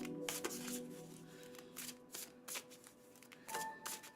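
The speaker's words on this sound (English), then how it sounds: "It's just me shuffling." Tarot cards being shuffled by hand, a soft papery riffling and flicking that comes in repeated bursts close to the microphone, fairly quiet, with no talking.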